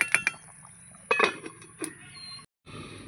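A lid clinks onto a pot of hilsa and pumpkin curry with potatoes, giving a few sharp metallic knocks and rattles close by, then a brief silence.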